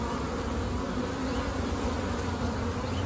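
Bees buzz at the entrance of an Australian backyard hive less than a year old, a dense, steady hum that stays loud and close throughout with no voices.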